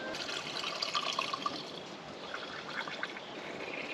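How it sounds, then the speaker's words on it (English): Diesel fuel overflowing from a tractor's fuel tank during wheat seeding on a South Australian farm, a steady close trickling and splashing of liquid that keeps flowing throughout. "Now I'm going to show you guys how to overflow a fuel tank"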